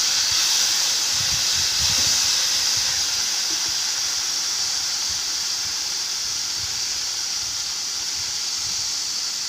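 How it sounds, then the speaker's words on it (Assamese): Boiled chickpeas fry in a hot pan, producing a loud, continuous steamy hiss that stays even from start to finish with no one speaking. "এইখিনি অকণমান সময় মই ভাজি ল'ম।"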